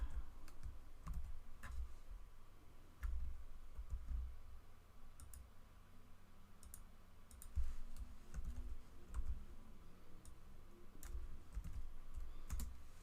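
Fingers type on a German computer keyboard, producing a steady run of close, crisp key clicks with irregular pauses and no talking.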